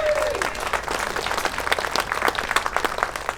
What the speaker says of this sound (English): I paid all of them to clap.